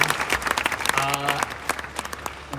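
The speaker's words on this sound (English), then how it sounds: "Round of applause for that." Loud applause from an audience fills the space, dense clapping that gradually thins out, with a voice briefly heard over it.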